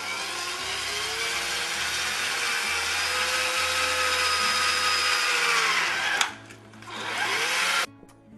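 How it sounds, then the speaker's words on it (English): A drill with a 1/4-inch bit boring into a plastic drain pipe under a sink, a loud continuous whirring that runs steadily for about six seconds, then slows and stops with a brief restart near the end. "And then just go ahead and drill."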